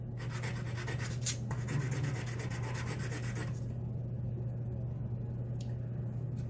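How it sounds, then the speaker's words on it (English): A metal lock pin buffed back and forth on sandpaper, a steady close rasping rub that fades after a few seconds, over a constant low electrical hum, no talk. "I'm just going to buff it on this sandpaper"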